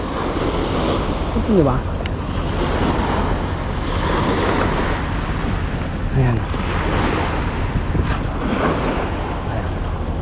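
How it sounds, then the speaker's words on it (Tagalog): Ocean waves wash steadily onto the shore at Sembawang, a continuous surf roar mixed with gusting wind buffeting the microphone, while people talk briefly nearby. "Ang ganda ng ano, alon."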